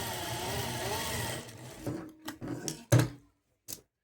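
A sewing machine stitches half-inch tucks on a blouse, running in a close, continuous whir for about a second and a half before stopping, followed by a few short clicks and handling knocks.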